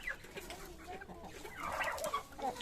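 Hens cluck in a farm chicken shed, a cluster of soft, irregular clucks and short calls over a rustling background, growing busier toward the end.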